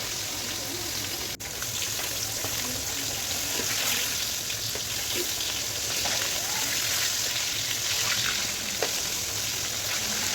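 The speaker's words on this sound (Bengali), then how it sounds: "আবারও দিয়ে দিলাম, আবারও ভেজে নিচ্ছি। এইভাবে সব মাছগুলো লাল লাল করে ভেজে নেব" Pieces of catla fish fry in hot oil with a steady, even sizzle that holds close and moderately loud throughout, with no break in the crackle.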